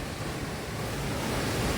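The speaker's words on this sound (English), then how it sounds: "So yeah, another waterfall here." Rosies Falls waterfall on the Talnotry Trail, Core Path 400, a steady broadband roar of rushing water holding constant and fairly loud throughout, with no voices.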